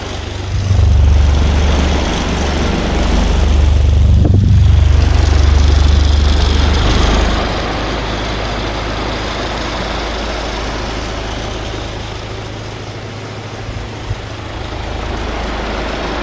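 An antique 1947 GE desk fan motor runs with a deep, loud hum for about seven seconds, then settles into a quieter, steady drone.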